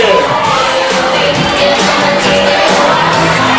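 A crowd at a nightclub fashion show applauds and cheers as a Fendi model from Berlin takes the runway, a loud, continuous blend of clapping and shouting.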